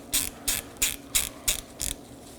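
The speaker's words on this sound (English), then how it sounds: "Now I'm just going to snug up this T30 screw." A ratchet snugs a T30 set screw on the brake rotor of a Chevrolet Equinox, making six evenly spaced, close clicking strokes.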